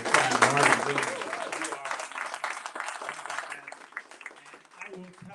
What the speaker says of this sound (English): How about a round of applause for one of our very best state senators in Connecticut's